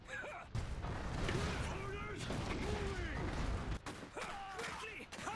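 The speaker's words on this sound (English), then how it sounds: "Yep, they're shooting the field gun" Field gun artillery fire in the real-time strategy game Iron Harvest, heavy booms and rumbling battle noise loud throughout, with a pause midway and whistling, sweeping game effects.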